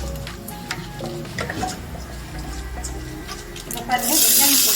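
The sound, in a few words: onion frying and being stirred for rava upma tempering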